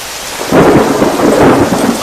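Thunder rumbles loud and close over steady heavy rain, a deep roll swelling after a moment and sustained to the end, with no voices.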